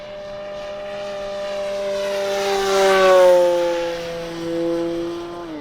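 An E-flite P-51 Mustang "Cripes A Mighty" 1.2 RC airplane with external tanks passes overhead, its propeller whine swelling loud as it nears, dipping in pitch and fading, with no voices.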